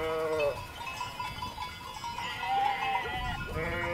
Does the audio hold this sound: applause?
no